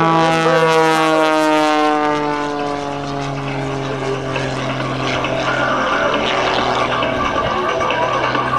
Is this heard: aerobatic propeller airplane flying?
yes